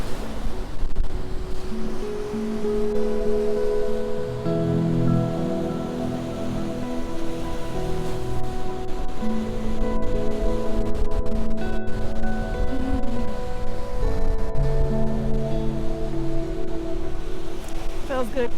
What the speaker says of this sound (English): It's really windy, so the waves are much bigger than usual